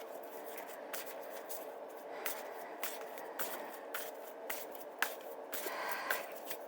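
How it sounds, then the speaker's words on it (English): Tarot cards are shuffled repeatedly in quick, crisp riffling bursts with soft slaps between, close and fairly quiet, without speech. "I shuffle till either a card falls out of the deck"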